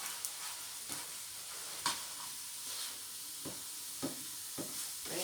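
Scrambled eggs sizzle softly in a pan, a faint steady hiss broken by occasional light scrapes and taps as the eggs are stirred, with no voices.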